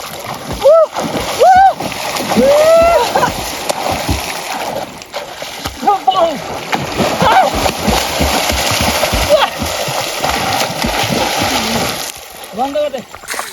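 Water splashes and sloshes repeatedly as a group of friends swims, with voices talking and calling out throughout, close and fairly loud.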